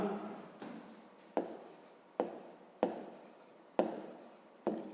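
A pen scratches across paper while someone writes out a math exercise, soft strokes broken by several sharp taps as the pen touches down, close and quiet.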